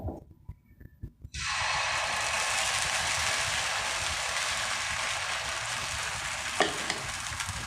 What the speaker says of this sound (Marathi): तेल लावून घ्यायचं बॅटर टाकून घ्यायचं